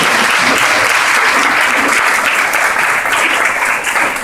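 Sustained, dense audience applause at a press conference in Tuxtla, loud and steady throughout with no speech over it.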